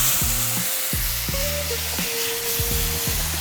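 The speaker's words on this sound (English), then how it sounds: "we're gonna fry it up and finish the rest of the cooking of the gnocchi in the butter" Gnocchi searing in butter in a pan, a continuous loud hiss of sizzling with a repeating low mechanical hum and tonal beeps running underneath, no voices.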